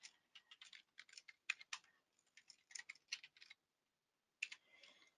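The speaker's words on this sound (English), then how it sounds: "I'm going to type it in again." Quiet typing on a computer keyboard, bursts of rapid light key clicks with short pauses between words, close and faint.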